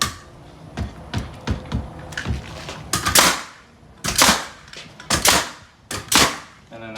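Nail gun firing nails into wood framing on a construction job, a series of sharp close pneumatic bangs and clacks in irregular bursts, some doubled, with no talk.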